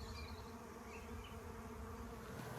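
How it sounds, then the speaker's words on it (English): Honey bees buzzing around a captured swarm hive outdoors: a steady, dense hum of many insects close by, continuous and even throughout with no pauses. "I could definitely see bees going back and forth from here"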